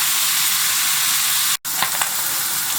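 Sausage and bacon frying together in a pan give off a loud, steady sizzle and hiss that cuts out for a moment and then resumes, with a few light crackles; no one speaks.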